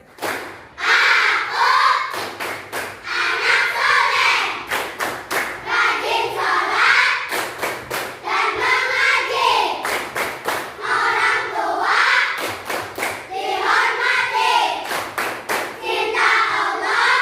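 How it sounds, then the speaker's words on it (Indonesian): Children's group clap chant 'tepuk anak soleh', led by a teacher in a classroom: sharp, rhythmic bursts of hand claps in repeating patterns with chanted voices between them, steady and close for the whole stretch. "Ayo, sebelum itu kita tepuk bersama-sama, yaitu tepuk anak soleh."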